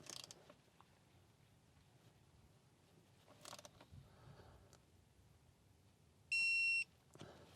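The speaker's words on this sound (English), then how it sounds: "we will torque this plug to 31 Newton meters" A digital torque wrench set to 31 newton meters on a Subaru TR580 CVT transmission drain plug, with faint creaks and mechanical clicks as it turns, then one loud steady electronic beep lasting about half a second.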